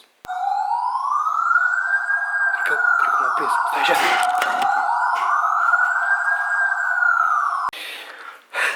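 A police siren wails in long rising and falling sweeps, loud and close, while a voice speaks briefly over it before it cuts off.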